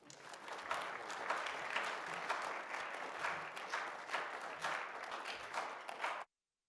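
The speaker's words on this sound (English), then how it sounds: "Let's give them a round of applause." An audience at a staged immigration debate applauds steadily for about six seconds, a dense wash of many hands clapping at an even level before stopping abruptly.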